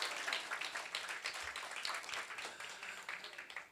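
A congregation at an autumn church revival gathering claps in a brief, fairly quiet burst of steady applause from a room-sized group, with no talking over it.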